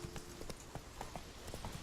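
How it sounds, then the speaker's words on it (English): Hoofbeats of a galloping horse in the video game The Witcher 3, a quick regular clip-clop rhythm, faint and close, with no voices. "Roach will more or less autopath if you hold down Gallop."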